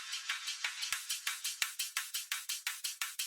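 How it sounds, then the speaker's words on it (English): Drum and bass build-up loop played dry, a fast run of crisp hi-hat and snare-like hits at a steady, even rhythm with occasional low kick thumps, loud and up front with no voices. "So this loop without effect sounds like this."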